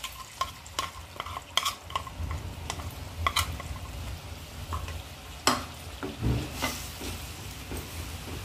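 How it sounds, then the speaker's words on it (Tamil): Hibiscus halwa batter mixed with ghee and milk being stirred steadily in a pan, a spoon scraping and clinking against the metal in repeated strokes over a soft, continuous sizzle. "கூடவேங்க இந்த கரைச்சி வச்ச மாவையும் சேர்த்து நல்லா கை விடாமல் கலக்கலாங்க."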